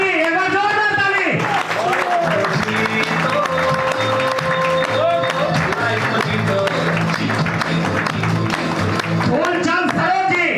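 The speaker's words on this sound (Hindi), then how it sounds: "मिस्टर राम गोपाल जी, एक बार जोरदार ताली।" An audience at a grand seminar honouring gold achievers applauds steadily for about ten seconds, with a few shouts or whoops mixed in. A voice is heard over the clapping throughout.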